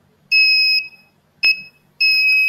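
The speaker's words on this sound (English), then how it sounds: "an object is there, the buzzer will buzz" Electronic buzzer in a burglar alarm circuit sounding three loud, shrill beeps, the first and last longer and the middle one short, with silence between them and no talk.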